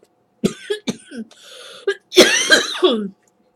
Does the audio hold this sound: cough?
yes